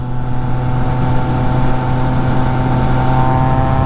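Triumph Trident 660 motorcycle exhaust while riding, a steady, loud, close drone with strong tonal harmonics that hold an even pitch throughout, with no talk over it.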